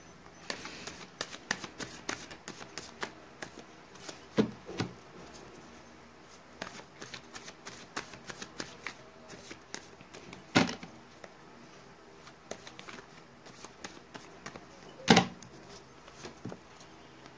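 Tarot cards are shuffled by hand in a quiet room, with repeated soft riffling flicks and a few sharper snaps, close and faint.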